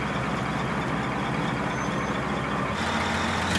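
A giant mining truck on huge tires rolls slowly during a brake rolling test, its heavy engine rumbling steadily and close, with a brighter mechanical hiss rising near the end; no voices.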